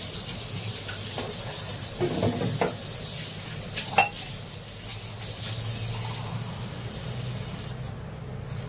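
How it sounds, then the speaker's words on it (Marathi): A thick bhaji batter of fenugreek leaves and dried shrimp being mixed, with soft wet stirring and a few sharper taps against the bowl over a constant background hiss, close and without speech. "आणि हे आपण घट्टसर असं मिक्स करून घेऊया"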